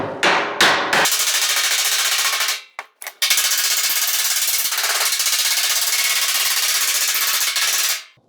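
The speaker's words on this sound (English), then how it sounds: "A wider slapper will distribute the force over a wider surface and therefore normalize your bumps." A wide slapper and a dolly hammer warped, freshly welded sheet metal on a 1940 Ford-inspired build. A few separate strikes come first, then a long run of rapid, loud, ringing blows, close by, that stops abruptly.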